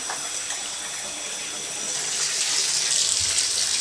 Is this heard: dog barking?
no